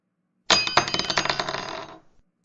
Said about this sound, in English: I dropped my pencil case